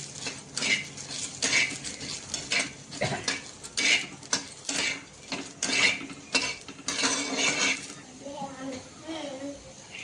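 Chillies dry-roasting in a pan without oil, heard as repeated close clanks and scrapes of a spatula against metal in a quick, irregular rhythm, with a voice speaking near the end.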